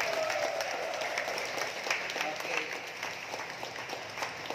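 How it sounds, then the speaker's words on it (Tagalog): Worshippers in church give lively applause for the Lord, a sustained, even roar of many hands clapping at a moderate distance, with a voice speaking briefly over it. "Yung po masiglang palakpak sa Panginoon."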